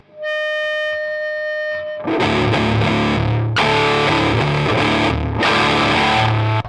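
Thick, heavily fuzzed electric guitar chords through a Walrus Audio Eons fuzz pedal crash in after a few ringing clean harmonics, played as a loud, saturated riff.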